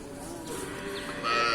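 Crossbred cattle at a northern Thai livestock market in Nan let out a moo, the low bellow rising near the end above a noisy, busy background.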